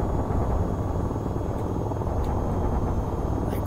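The rotor of an AH-94 helicopter in the VTOL VR game makes a steady, loud, broad whir and drone with no voices.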